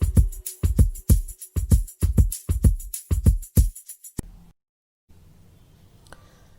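A rhythm plays as a punchy, syncopated pattern of loud drum hits for about four seconds, then ends abruptly, followed by a brief gap and faint room noise.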